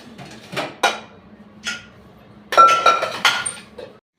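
Pots, pans and dishes clinking in a home kitchen during meal preparation, a handful of close, bright metallic and ceramic clinks in uneven bursts, with a cluster of knocks toward the end and no talking.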